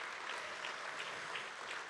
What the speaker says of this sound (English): So give them a massive round of applause